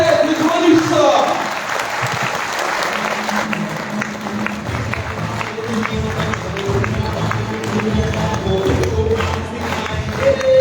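Audience applause at a live promotional event on a Thailand tour, welcoming a speaker: steady, dense clapping from a crowd that fills the whole stretch, with faint voices mixed in.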